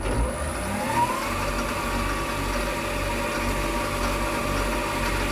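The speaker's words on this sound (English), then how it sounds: "So this lathe now runs on a 3-phase motor because the original Chinese ones are pretty rubbish." Metal lathe driven by a 3-phase motor through a homemade two-speed toothed belt drive, a steady mid-pitched motor hum with a brief rising whine near the start, running continuously at close range.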